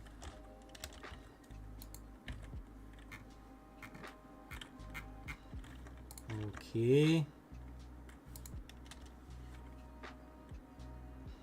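Soft, steady tapping of keys on a computer keyboard continues throughout, with a brief tonal chirp midway and a short spoken word.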